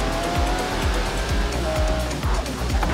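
A Ferrari in Forza Horizon 3 driven hard, its engine roaring steadily with repeated sharp shifts or skids and tire squeal over a constant loud drone, no talking.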